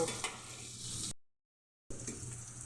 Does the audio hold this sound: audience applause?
no